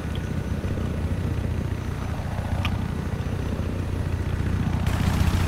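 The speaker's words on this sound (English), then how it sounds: "I'm gonna take the chopper" A helicopter in the video game Battlefield 4 drones with a steady, loud rotor and engine roar throughout, holding level with no pauses and swelling slightly near the end.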